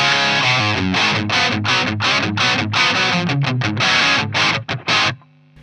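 A distorted electric guitar runs through an ADA MP-1 preamp with the mids cut and presence boosted, giving a thin, bright, scooped tone as a loud riff of rapid palm-muted chugs and chords that ends abruptly.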